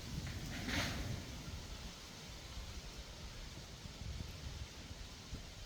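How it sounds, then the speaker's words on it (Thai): Gusty wind buffets the microphone outdoors on open land, a low rumbling roar that swells near the start and then holds steady and fairly faint with no talk. "ลมแรงนะครับ"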